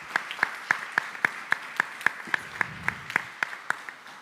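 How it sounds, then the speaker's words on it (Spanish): Applause for a support team at a talk on society and the climate crisis sounds as crisp, evenly spaced claps, around sixteen in a steady beat, fairly quiet and without speech. "Creo que son un aplauso para ellos, estos jóvenes que nos han ayudado tanto."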